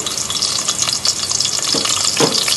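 Sliced onion hits hot oil for beef nihari, giving a loud, close, continuous sizzle with stirring scrapes and crackle throughout, no voices.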